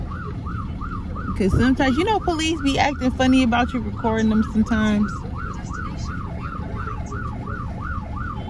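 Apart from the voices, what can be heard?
police siren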